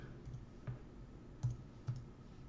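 A computer keyboard tapped a few times during a guitar lesson, with three or four soft, isolated key clicks spaced irregularly over a low steady hum, close and faint, with no talking.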